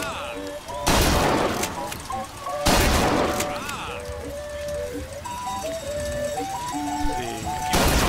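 Shotgun blasts at a shooting gallery in Bioshock Infinite: three loud broadband booms spaced a couple of seconds apart, with chiming, tinkling game tones and melodic beeps ringing between the shots.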